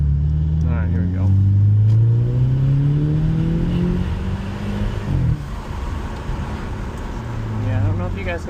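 A Mercedes C300 W205 with its exhaust muffler deleted accelerates on a road, engine droning up through the revs with a brief burble at a gear shift, then climbing again, heard steadily from nearby.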